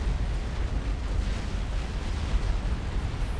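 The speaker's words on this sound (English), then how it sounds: "Another explosion up here at the front from Deja Vu," A heavy explosion rumbles in the strategy game Supreme Commander, a continuous deep roar with wind-like noise filling the moment at steady loudness.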